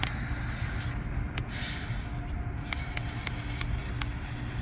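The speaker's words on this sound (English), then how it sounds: "I'm just going to spray it down to get rid of some of the dirt" An aerosol cleaner sprayed over the outside of a lawnmower carburetor on a Honda GCV160 engine, a couple of short hissing bursts followed by faint clicks over a steady background noise.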